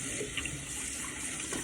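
Tap water runs steadily into a bathroom sink for warming up during a shave, a continuous close hiss and splash with no pauses.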